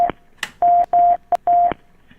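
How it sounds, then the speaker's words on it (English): Telephone ringing on a recorded 911 emergency call: a loud, close tone repeats in short pulses, four steady beeps with a brief blip between, heard alone without talk. "The phone is still fucking ringing"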